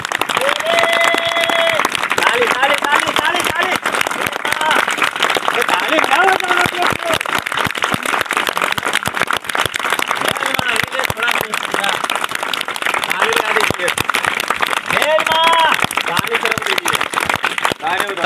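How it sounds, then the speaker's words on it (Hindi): Village audience at an outdoor magic show clapping hard and continuously, a dense crackling applause that runs throughout while a performer talks loudly over it. "एक दो ताली बजा दो"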